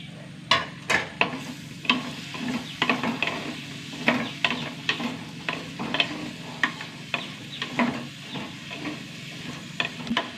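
Potatoes, ridge gourd and onion sautéing in a pan, with a steady close sizzle broken by sharp, repeated scrapes and knocks of a spatula stirring through the vegetables, alone with no voices.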